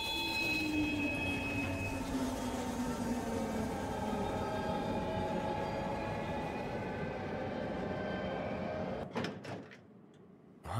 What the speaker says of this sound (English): Again, the train is now arriving.